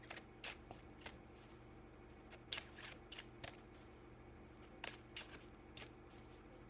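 Tarot cards being shuffled up close, a run of quick crisp riffling flutters and soft slaps in irregular bursts, quiet and alone without any voice.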